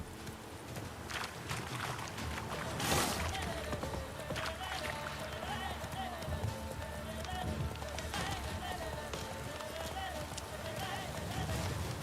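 Roach, a horse in The Witcher 3 video game, gallops in a steady clip-clop rhythm under a continuous layer of game ambience and music, with one brief louder burst near the start.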